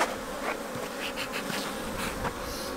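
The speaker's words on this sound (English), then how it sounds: "see what those bees are doing" Dense, steady buzzing of many honeybees close by at an opened winter hive being smoked, a continuous droning swarm with no voices.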